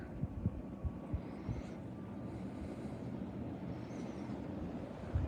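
A RITZ 42-inch ceiling fan in a basement shop runs on high speed, giving a steady, fairly loud whooshing rumble with a faint rhythmic throb from its slight wobble, with no voices.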